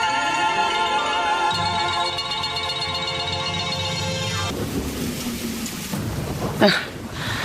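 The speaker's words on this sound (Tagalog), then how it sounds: "Napakalakas naman ang ulan na ito." Heavy rain and thunder as sound effects in a radio drama: a sustained musical tone first gives way to a steady, rushing downpour, and then a sharp, loud thunder crack rolls out near the end, with no talking.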